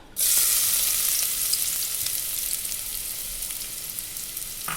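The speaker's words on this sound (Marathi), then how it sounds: "कांदा तेलात टाकला" Chopped onion dropped into hot oil, ghee nearby, bursting into a loud, dense sizzle that holds steady and eases slightly over several seconds, close up with no voices.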